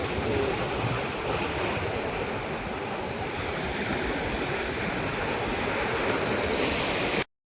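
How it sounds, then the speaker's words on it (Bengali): Large sea waves roll in at Digha beach as a continuous loud roar of surf, heavy with wind noise on the microphone, lasting throughout before cutting off abruptly. "বিশাল বড় বড় ঢেউগুলো দেখো"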